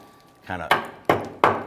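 A hammer strikes rusted tabs on a parking brake cable bracket of a 2006-2010 Hummer H3, three sharp metallic taps spaced about a third of a second apart, close and loud after a brief scraping rattle.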